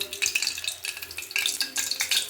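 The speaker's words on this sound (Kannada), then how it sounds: "ಇವಾಗ ಎಣ್ಣೆ ಹಾಕ್ಕೊಳ್ಳೋಣ" Cooking oil hits a heated pan and crackles into a bright, fluttering sizzle that surges and eases in uneven waves, close and fairly loud with no voices.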